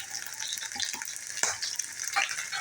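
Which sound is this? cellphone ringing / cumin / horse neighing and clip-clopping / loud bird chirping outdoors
cumin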